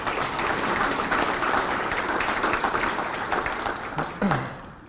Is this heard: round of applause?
yes